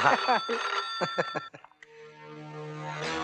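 A phone rings with a bright electronic ringtone, repeating melodic tones that carry on steadily after a few short clattering sounds.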